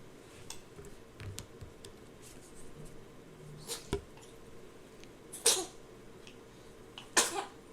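Two short, sharp sneezes burst out over a quiet room, alongside fainter clicks and small throat sounds, with no one talking.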